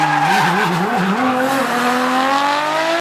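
Nissan Laurel C33 drifting in the Assetto Corsa racing game, with engine revs wavering then climbing over a sustained loud tire squeal, close and continuous with no talking.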